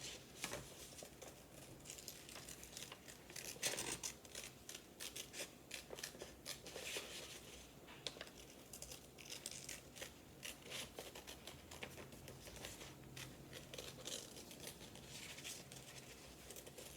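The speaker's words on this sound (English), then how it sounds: "So we're going to cut the flower." Scissors snipping out a paper flower shape for a flower science craft, giving soft, quick rustling cuts and paper rubbing close by, steady and fairly quiet for the whole stretch with no talking.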